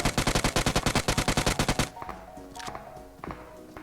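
Rapid automatic gunfire in the mobile game PUBG Mobile, a loud, evenly spaced burst of about twenty shots lasting nearly two seconds, then quieter scattered distant shots.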